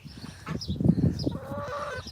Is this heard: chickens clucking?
yes